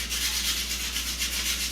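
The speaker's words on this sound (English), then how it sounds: "to peel the carrot that way. Just by scraping it off with the aluminum foil" Crumpled aluminum foil scraped steadily along a carrot to strip its peel, a continuous dry rubbing rasp close up, with no one talking over it.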